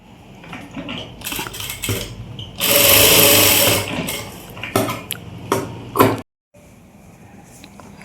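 Sewing machine stitching a seam on a nightgown, running in close, loud bursts with rattling mechanical clatter and short stops, then cutting out briefly near the end.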